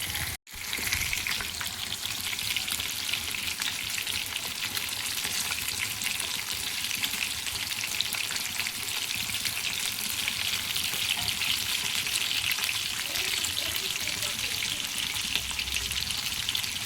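Fish frying in hot oil for a crispy, spicy street-style Indian fish fry: a loud, steady, close sizzle with fine crackling that runs unbroken throughout, with no talking.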